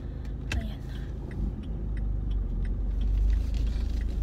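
Car engine rumbling steadily as the vehicle pulls away and starts to drive, a low continuous drone that swells slightly, with faint clicks and a small knock near the start.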